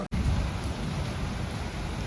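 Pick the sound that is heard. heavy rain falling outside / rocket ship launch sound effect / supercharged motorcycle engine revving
heavy rain falling outside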